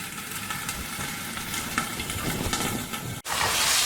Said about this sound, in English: we're going to pan-sear / steam our carrots here